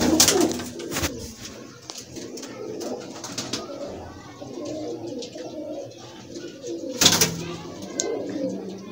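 Lahori pigeons in Sialkot coo in soft, low, repeated phrases close by, with a couple of sharp bursts of flapping or handling noise and occasional quiet speech.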